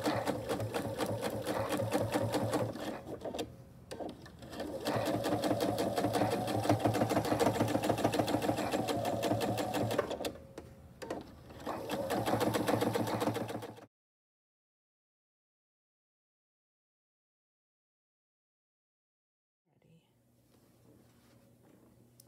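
A sewing machine stitching a fleece and flannel quillow runs in a steady close mechanical whir for about fourteen seconds with two brief slowdowns, then stops into silence before a faint hum returns.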